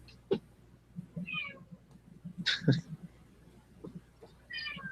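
A cat close to the microphone gives several short meows, one loud near the middle, scattered over a few seconds amid faint background noise and soft sounds, with no speech over them.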